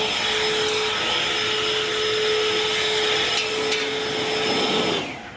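Electric backpack leaf blower running on turbo, a loud, steady whooshing roar with a constant whine, held evenly close up before winding down at the end.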